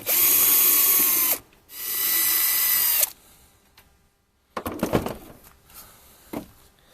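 A power drill whines in two loud bursts while unscrewing the reverse light fixture on a Honda Element, followed by a pause and then a few clattering handling sounds.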